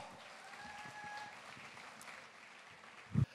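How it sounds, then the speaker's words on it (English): Audience applause at a university triathlon championship opening in Kalmar, Sweden, soft scattered clapping from a distance, ending in a brief louder knock. "Please, a big hand of applause for Mr."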